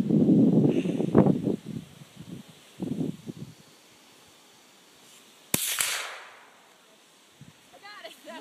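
A single sharp gunshot from a handgun or rifle fired outdoors cracks out loud and close, followed by a decaying echo, with people talking before the shot.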